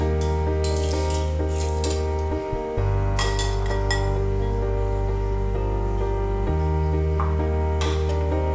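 Metal cutlery clinks and scrapes against a bowl as beef stroganoff is plated, several sharp chinks in irregular bursts over a steady low kitchen hum, close and clear, no talk.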